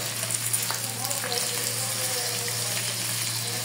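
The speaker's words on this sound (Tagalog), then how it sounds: "At igisa natin yung ating giniling na baka." Frozen ground beef sautéing in a pan with garlic and onion, a steady close sizzle and fry that hisses evenly throughout, with light stirring scrapes.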